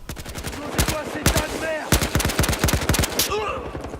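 Rapid automatic gunfire from a Battlefield Hardline multiplayer match comes in dense bursts of sharp cracks, some near and loud, others fainter, with brief pauses between volleys.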